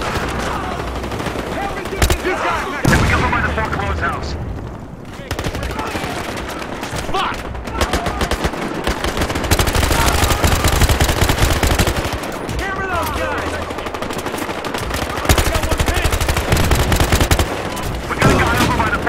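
Gunfire in the video game Battlefield Hardline, loud bursts of automatic and single shots coming in clusters with short pauses, close and sharp, with people talking over the shooting.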